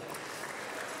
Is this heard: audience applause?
yes